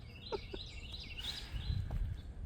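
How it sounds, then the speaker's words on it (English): A bird chirps loudly in quick high warbling phrases in a garden, fairly close and clear, over soft low background rumble. "And that bird is so loud"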